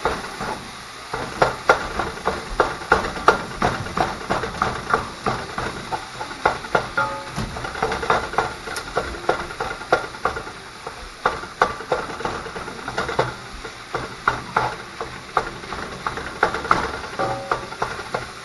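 Food for a tater tot casserole browns in a pan on a home stove, giving a continuous hiss with frequent small pops and crackles, close and moderately loud, with no talking.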